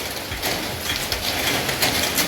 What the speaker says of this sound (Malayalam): നല്ല മഴയാണ് ഇതിൻ്റെ സൗണ്ട് കേൾക്കുന്നുണ്ടോ പോലും അറിയില്ല